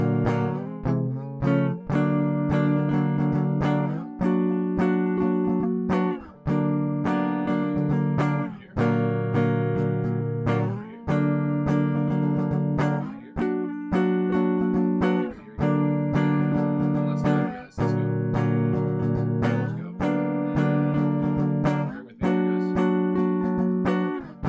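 Guitar chords strummed and left ringing, played over and over in a steady pattern with short gaps between them, close and clear with no talking.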